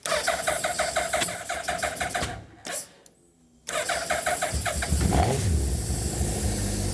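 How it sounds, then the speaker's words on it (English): A Mazda MX5 fitted with a Hayabusa motorcycle engine cranks with a quick rhythmic churn, falls briefly quiet, then fires and settles into a loud, steady idle close by. "Make sure the fuel pump is working, and then it starts. So there she goes, she runs."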